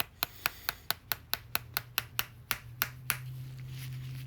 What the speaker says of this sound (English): I get my little jeweler hammer, kind of start up, and then just whack it in there.